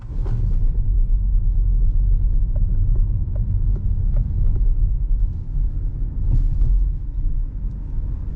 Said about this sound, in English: And we are now here on the bumpy section, but the drive is still so smooth.